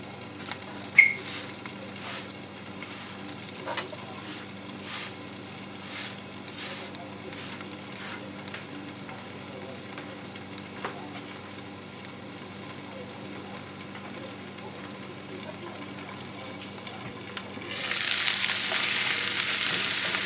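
Burdock and milkweed stir-frying in plenty of sesame oil give a steady, soft sizzle throughout, with occasional light clicks of stirring and a louder, brighter hiss swelling near the end.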